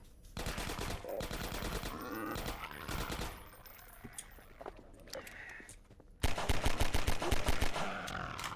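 An ally's unlimited-ammo gun in Half-Life 2 Episode One fires in loud, rapid bursts, then drops back to scattered shots and quieter battle noise before another heavy volley resumes.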